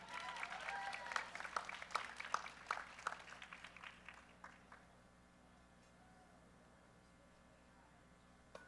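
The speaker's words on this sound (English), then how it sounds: "Give her a round of applause." Applause for a gold medal winner at a college nationals competition, a burst of clapping that fades out after about four seconds, followed by quiet room tone.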